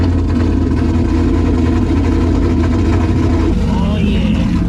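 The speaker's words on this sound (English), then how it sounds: "Let's hit it with a cold start." A loud, lowered, cammed Corvette engine cold-starts on a rainy day and settles into a heavy, lumpy idle that drones steadily and close throughout, its pitch dropping slightly near the end.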